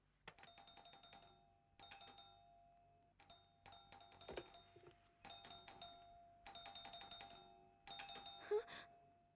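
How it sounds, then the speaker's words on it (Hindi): An electronic doorbell rings repeatedly, six chiming bursts in a row with short gaps between, clear and insistent. "ये किसी स्कूल का घंटा नहीं, मेरे घर की घंटी है।"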